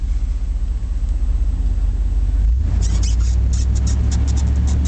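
A 1989 Chevrolet Silverado K2500 4x4 farm truck crawls through snow in first gear and four-low, its engine a loud, steady low rumble with faint squeaks late in the run.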